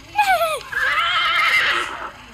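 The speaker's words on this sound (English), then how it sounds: "Horse!" A horse neighs close and loud: a sharp falling whinny followed by a longer, shaky sustained call that fades out after about two seconds.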